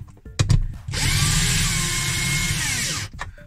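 A power drill drives screws while refitting a lamp inside an Adriatik camper van, running steadily for about two seconds between short bumps and handling noise, loud and close, with no talking.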